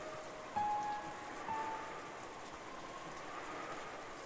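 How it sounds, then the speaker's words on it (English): Steady rain hisses in a soft, even wash of noise inside a dining hall in the Umineko visual novel, with a couple of faint tonal chimes over it. "the meal ended up being so quiet that you couldn't ignore the sound of the rain"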